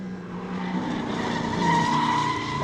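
Race car tyres squealing through a big slide on a corner exit at Winton Motor Raceway, Victorian Super Tin Tops race, caught by a trackside mic: a sustained rising screech over engine noise, moderately close, with no voices.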